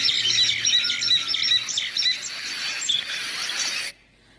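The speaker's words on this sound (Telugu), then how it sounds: "ఏంటి పక్షుల శబ్దం ఇంతగా ప్రవర్తిస్తున్నాయి ఈరోజు?" Dense high-pitched chirping and twittering from many birds at once, loud and continuous, cutting off abruptly near the end.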